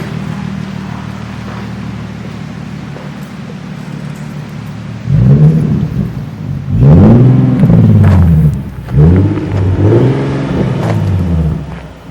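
A Nissan 370Z with an ISR exhaust idles with a low exhaust rumble, then revs hard in several rising and falling bursts, loud and close.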